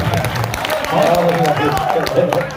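Crowd at an All India Mushaira poetry gathering applauds in a dense burst of clapping, fairly close and continuous, with voices mixed in.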